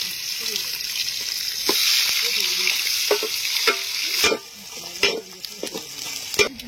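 Large onions sizzle and fry in a pan for a country chicken curry cooked outdoors in a forest, with a steady bright hiss broken by several sharp spoon scrapes and clanks of stirring, and no talking.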